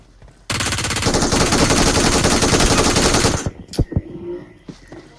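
Sustained rapid automatic gunfire in PUBG Mobile rattles loud and close for about three seconds, then cuts off into a few scattered single shots and impacts.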